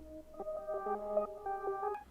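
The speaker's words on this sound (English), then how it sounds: "No reverb actually, just portal and halftime." Synth melody from a Cube VST preset run through Portal and halftime effects, with no reverb: steady sustained tonal notes shifting in pitch in a slow ambient phrase, played alone at moderate level.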